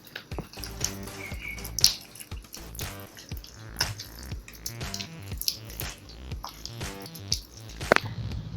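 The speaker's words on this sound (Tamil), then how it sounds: "முட்டை, சர்க்கரை, வாழைப்பழம்லாம் போட்டு நல்லா கொஞ்சம் கொஞ்சமாக பிசைஞ்சுக்கோங்க" Banana, egg and sugar batter for sweet adai dosa being squeezed and kneaded by hand, a close series of soft, wet squelches and drips in an irregular rhythm.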